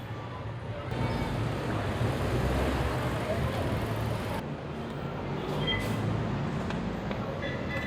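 A light rail train rumbles through LRT Carriedo Station on Rizal Avenue, Manila, with steady mechanical roar and hiss, voices and crowd noise faintly audible underneath.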